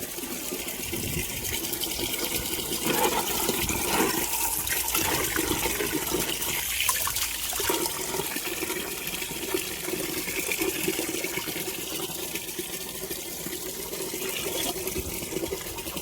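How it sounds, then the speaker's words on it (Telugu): Water runs steadily onto okra plants in a vegetable garden, a continuous gushing flow that stays close and fairly loud throughout, with no voices. "చెట్లకి నీళ్లు పట్టుకున్నాను"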